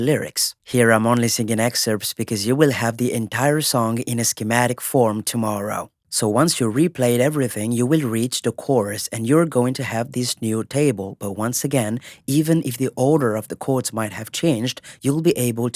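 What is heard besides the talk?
No everyday noise stands out behind the speech.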